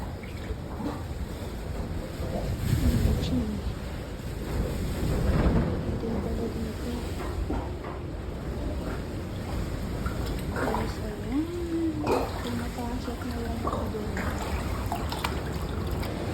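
Typhoon floodwater at high tide churns and rushes in a continuous loud wash, with rain and wind mixed in and scattered voices talking over it.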